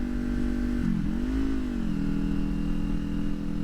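A car's engine drone dips as the gearbox shifts into fourth, then climbs again in a smooth upward pitch as the car accelerates, steady and close from inside the cabin.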